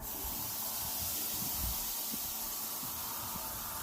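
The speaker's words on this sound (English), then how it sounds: "Let's listen for that sizzle, baby." Meat on a charcoal grill: steady, broad hissing sizzle with faint crackles and pops underneath, constant and close, with no voices.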